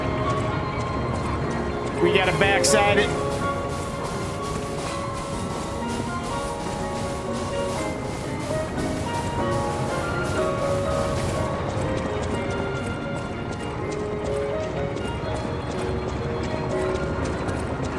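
In the video game Lies of P, horses clip-clop steadily under dense background music, and a person talks over the hooves for a moment.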